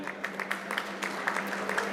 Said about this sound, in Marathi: जोरदार टाळ्या वाजवूया आपण